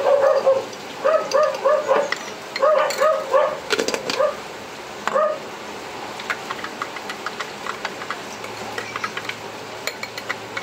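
A dog barks repeatedly in quick bursts for several seconds, fairly close, then falls quiet, leaving faint clicking and scattered background noise.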